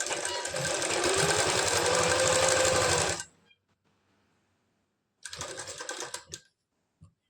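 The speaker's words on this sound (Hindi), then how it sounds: "यहाँ से पक्का करेंगे और सिलाई लगाते चले जाएंगे" A sewing machine stitches a belt blouse in a fast, even run for about three seconds, stops, then makes a second shorter burst after a pause.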